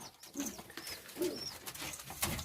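Pigeons coo in a loft with nesting birds and young, soft repeated calls with light rustling close by, no talking over them.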